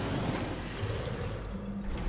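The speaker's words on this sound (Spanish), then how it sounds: "ahí vaciamos el tubo este de las burbujas" Water drains from a bubble tube in the video game Poppy Playtime Chapter 2, making a steady, rushing, gurgling wash that fills the whole moment at an even level with no pauses.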